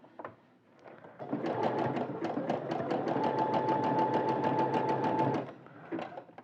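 A sewing machine runs steadily for about four seconds, stitching fabric stretched together with elastic for a straight seam on women's garment sewing; the even, rapid needle pulses sound close and clear, with quiet handling before and after.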